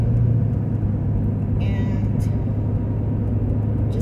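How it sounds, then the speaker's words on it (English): Steady low rumble of a car cruising along a road, heard from inside the cabin as a constant droning hum with no pauses or sharp changes, fairly loud and close, no speech. "I'm just documenting myself driving."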